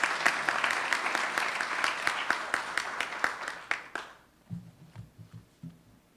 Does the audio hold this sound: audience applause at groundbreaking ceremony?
yes